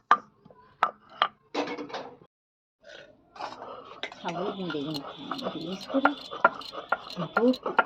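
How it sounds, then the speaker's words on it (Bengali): Ginger and tomato are ground into a paste for a vegetarian Bengali dish, starting with a few sharp knocks and then turning into a steady rhythmic scraping close by, with a voice talking over it. "এটা একটু বেটে নিচ্ছি আর টমেটোটাও এর সাথে একটু বেটে নেব"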